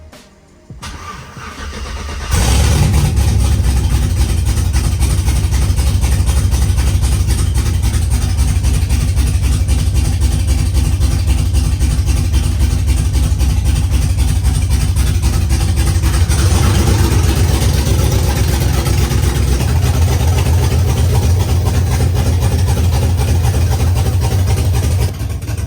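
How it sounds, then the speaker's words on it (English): An LS-swapped Ford Mustang engine cranks, catches on its first start and settles into a loud, steady, slightly uneven idle close by, with a brief change in tone partway through and no talking. "It's not running the best right now, but I have not touched the tune whatsoever."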